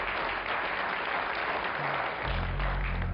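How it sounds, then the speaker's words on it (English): Applause on a fishing show, a continuous moderate clapping texture with a low rumble entering near the end. "A round of applause."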